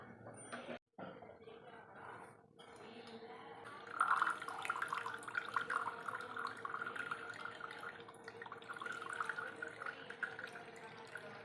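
Boiled betel leaf decoction being strained, a steady trickle of liquid with faint dripping and splashing running throughout, close and fairly quiet, with a brief dropout near the start.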